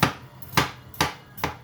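Four sharp knife chops through watermelon at a steady pace against a cutting board, each a crisp thud with brief decay, close up.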